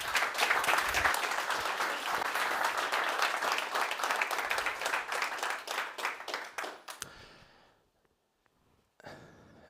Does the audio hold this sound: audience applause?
yes